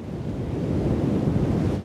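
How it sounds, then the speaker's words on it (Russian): A big ocean wave rolls and crashes in a Peppa Pig cartoon, a loud continuous surf roar with wind-like rushing that cuts off abruptly at the end. "Смотрите, какая волна!"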